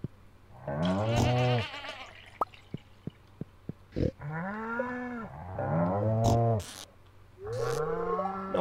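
Sheep in the Stardew Valley farming game give several clear, close bleats in a row, separated by short pauses and a few sharp clicks, with no talk over them.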